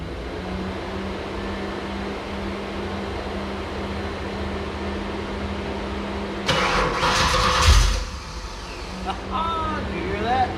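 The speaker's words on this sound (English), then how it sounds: "let's go ahead and see if we can get the car running" A car's engine cranks and fires after a Terminator X fuel-injection wiring install, a brief loud burst rising over a steady background hum, then settling into a low idle.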